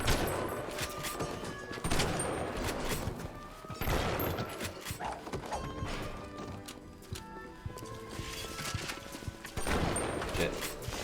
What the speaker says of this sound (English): Get shot in the face with a shotgun, fool.